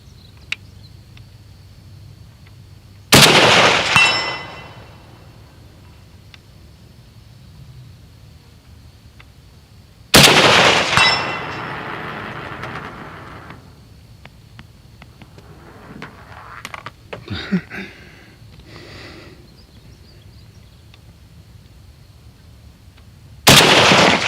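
A Romanian PSL-54R rifle chambered in 7.62x54R fires three loud, booming shots at an outdoor range, spaced several seconds apart, each followed by a rolling echo, with faint handling noises in between.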